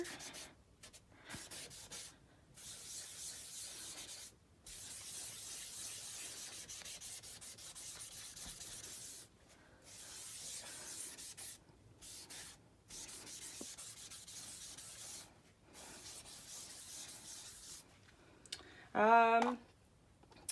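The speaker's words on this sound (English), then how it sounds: "I'm going to take a clean portion and I'm just going to rub it in over here." Chalk pastel is rubbed into a coloring book page, producing soft, dry scratchy strokes in repeated bursts separated by short pauses, quiet and close, with one brief sharper scrape near the end.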